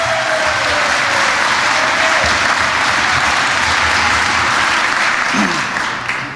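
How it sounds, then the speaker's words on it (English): Thick, sustained applause fills a political campaign event hall in Western New York, loud and continuous from a large crowd with a faint murmur of voices underneath. "Give him a round of applause."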